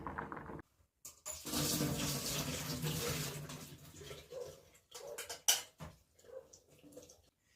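Water gushes steadily for a few seconds as boiled food is drained from a pot, then trails off into intermittent splashes and clanks of a pot or dishes.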